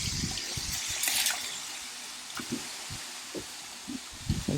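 A garden hose sprays water in a soft, steady hiss with splashing bursts. Faint scattered knocks and thumps come from around the spray, and the whole scene is fairly quiet.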